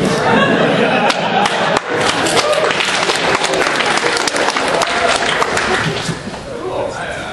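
An audience at a gaming panel discussion applauds loudly and continuously, with scattered chuckles and murmured voices mixed in before the clapping tapers off slightly at the end.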